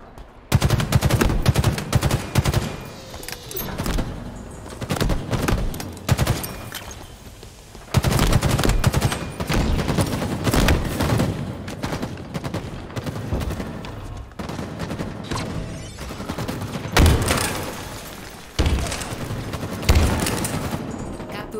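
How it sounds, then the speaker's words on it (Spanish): Rapid, loud three-round bursts of video game gunfire in quick succession, dense and continuous, with short pauses between volleys. "Nada es más satisfactorio que una ráfaga de 3 disparos."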